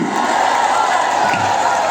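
A large election rally crowd cheering and shouting for Amit Shah at a public meeting in Saroda, a dense, steady roar that fills the whole moment.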